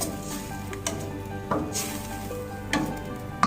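A dendeng ragi mixture with grated coconut sizzles and simmers in a pan while a spoon stirs it in a soft, steady rhythm. Occasional scrapes and taps on the pan stand out, with almost no talking.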